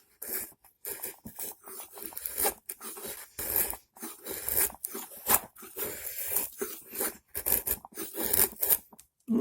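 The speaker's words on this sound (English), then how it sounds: "let's try just cutting some wood, see how that feels" A 4 inch full tang fixed blade knife shaves and carves into wood, producing rapid, uneven scraping and crunching strokes in close bursts with brief pauses between them, with no talking.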